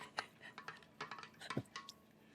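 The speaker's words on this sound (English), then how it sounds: "I just want to give this a quick stirry stir." Spoon clinks and scrapes against a vessel while a pineapple, coconut water and honey mead mixture is stirred, a quick run of light metallic taps and knocks, close and fairly soft.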